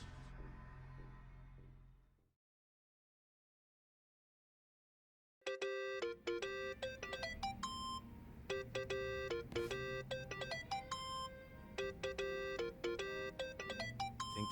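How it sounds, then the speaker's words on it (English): A mobile phone ringtone in the video game Yakuza: Like a Dragon. It starts after a few seconds of near silence, then plays loud, bright repeating melodic tones without a break. "Think that's your phone, man."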